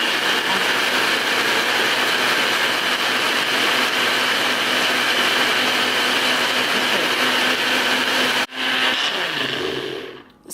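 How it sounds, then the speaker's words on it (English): A blender whirs loudly and steadily, processing a cup of Brazil nut milk with a quarter cup of sesame seeds for vegan mozzarella-style cheese, then cuts off near the end and winds down briefly. "So I'm going to process the cup of Brazil nut milk and the sesame seed"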